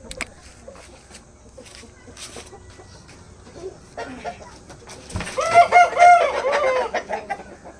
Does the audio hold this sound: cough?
no